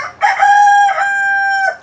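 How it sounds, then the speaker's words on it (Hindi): A rooster crows once, loud and close, in a full drawn-out cock-a-doodle-doo that stands alone with no talking. "आपको मालूम होगा मेरे पास एक मुर्गा है"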